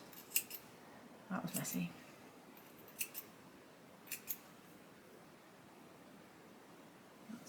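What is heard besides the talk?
scissors cutting embroidery thread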